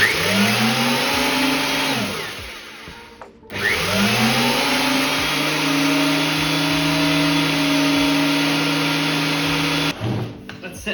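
A thicknesser planer is switched on, its motor whining up to a loud, steady high-pitched roar, briefly cut off and restarted, then running on continuously before winding down near the end.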